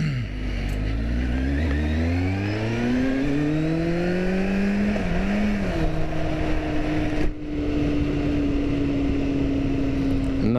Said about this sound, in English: Nice little short drive with the Z800.